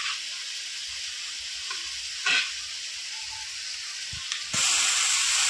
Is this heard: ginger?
yes